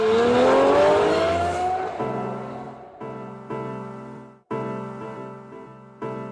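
A Lamborghini sports car in Verde Draco green roars up through the revs with a rising whine, then crackles and burbles through short bursts as it changes gear, loud and close.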